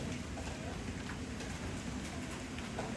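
Constant rain falls in a steady, close hiss with scattered drops pattering on a surface, unbroken from start to finish.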